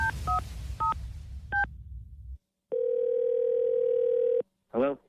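Telephone dialing for a radio prank call on a station phone line: a quick run of touch-tone beeps, then a short pause, a long steady ringback tone and the start of another ring, loud and close.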